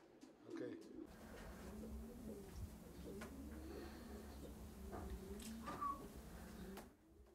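Pigeons cooing in a loft, several soft overlapping coos repeating throughout against a quiet room background, with faint movement noises.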